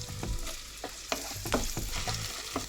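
Potatoes frying with onions in hot mustard oil, a steady close sizzle with repeated stirring scrapes and clinks of a utensil against the pan throughout.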